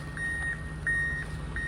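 A scraper's reversing alarm sounds three evenly spaced beeps with an idling engine rumbling underneath, heard at a moderate distance outdoors with no one talking.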